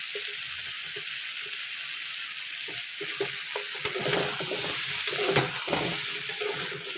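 Potatoes sizzle and crackle steadily in a hot pan, with occasional stirring scrapes and soft clatters rising over the continuous frying hiss.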